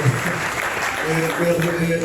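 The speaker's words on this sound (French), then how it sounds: "Est-ce qu'on peut applaudir le Seigneur pour notre sœur?" Church congregation applauding during a French-language service, steady dense clapping mixed with voices throughout.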